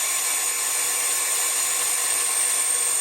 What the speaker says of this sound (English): The pump's running.